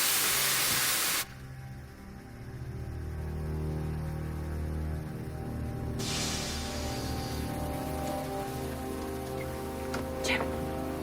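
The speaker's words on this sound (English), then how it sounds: "Sounds like steam escaping." Steam escapes aboard a ship after its engine stops: a loud broadband burst opens, then a steady hiss continues under a low mechanical drone that softens midway, with a few faint knocks and no clear talk.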